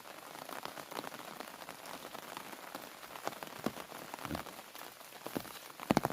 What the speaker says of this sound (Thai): นี่ฝนตกพี่น้อง